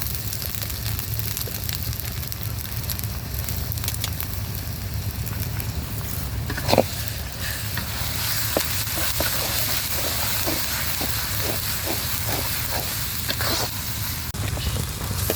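Onions frying in a large pan for biryani cooked for forty people, a steady broadband sizzle running throughout with a sharp clatter midway and a few soft knocks later, while rain may patter in the background.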